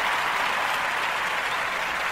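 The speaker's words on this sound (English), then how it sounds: "Round of applause for every blue woman in fantasy." Short, steady round of applause from an audience, dense clapping heard alone with no talking.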